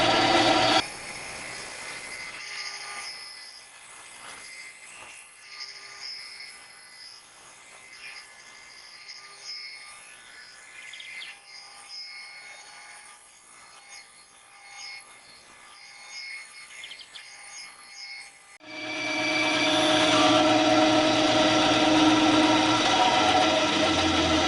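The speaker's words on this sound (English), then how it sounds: "Bandsaw is all I have right now." A bandsaw cutting out a lightsaber mount: low, uneven cutting noise for most of the stretch, then a loud, steady broadband whine near the end as the saw runs at full load.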